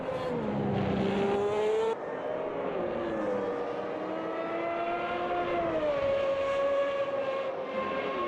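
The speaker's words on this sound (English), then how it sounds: "There is actually a lot of grip, and you can also hear the traction control, which is doing its work, helping me here" A wet-weather race car in the Automobilista 2 sim racing game, its engine droning loudly and steadily with rising and falling pitch, and a faint raspy stutter from traction control cutting in, with no voices.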